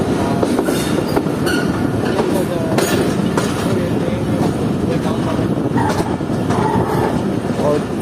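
The Jaffer Express runs along a single-line track with a continuous loud rumble of wheels and carriages, faint rhythmic clacks and the occasional squeal, heard from on board with no pauses.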